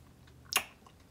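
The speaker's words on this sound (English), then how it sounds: "Like, I just bit that little corner, and I'm still chewing." A single crisp bite into a dense blueberry real-food protein bar, one short sharp crunch close to the mic in an otherwise quiet moment.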